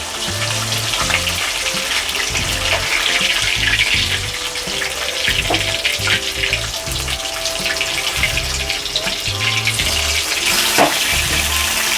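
Rui fish pieces frying in well-heated oil give a steady, dense sizzle and crackle that runs close and continuous throughout, with soft background music underneath.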